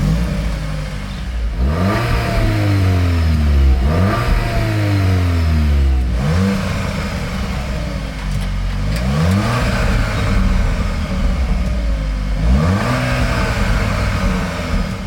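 A 2021 Audi S3 with a 7-speed S-tronic gearbox revs repeatedly from idle. Several loud, rising engine sweeps fall back between blips, close up and with no talk over them.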